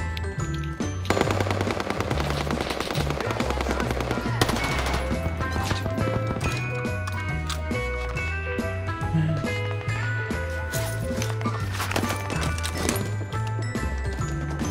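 Gunfire in Call of Duty Vanguard: rapid automatic bursts and scattered shots run throughout under continuous, prominent game music.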